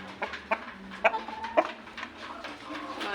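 BP breed laying hens clucking in a coop, several short, sharp clucks at irregular intervals over a low background, fairly close and clear.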